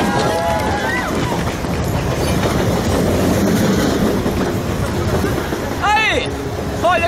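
A passenger train arrives, its wheels clattering loudly and steadily over the rails, with a brief squeal near the end and voices babbling underneath.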